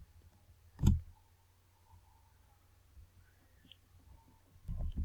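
A computer mouse in Microsoft Access gives one sharp, close click early on, then a faint softer click near the end over quiet room tone.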